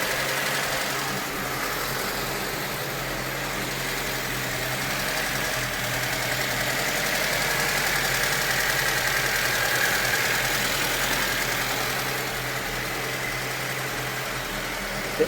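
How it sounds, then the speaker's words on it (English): A cold 1988 Lada Niva 1600 idles at an elevated speed, a steady, close engine drone with a faint mechanical knock running evenly and alone throughout. "The idle is high because the engine is cold right now."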